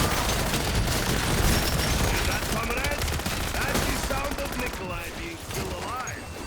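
An MP40 submachine gun rattling off long, fast automatic bursts in a Zombies game, loud and close over a busy mix of game effects and faint voices.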